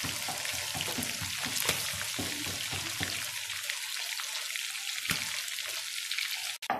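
Quail fries in oil in a pan and is turned over, giving a close crackling sizzle with busy spattering pops. The sizzle is strongest early and eases toward the end. There is no talk.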